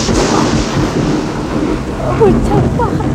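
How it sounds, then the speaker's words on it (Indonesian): Heavy rain roars with rumbling thunder, a loud, dense wash of noise that fills the whole stretch, while a faint voice briefly surfaces beneath it near the end. "hujan Pak."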